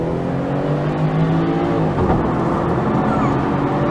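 A BMW 530d diesel sedan accelerating hard from inside the cabin, a steady, loud, rising engine drone with building road and wind roar throughout.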